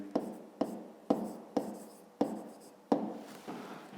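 A pen writes on paper while a fifth-grade maths exercise is worked out, giving a close series of scratchy strokes that each start sharply and fade, about seven of them spaced roughly half a second apart, with no voices.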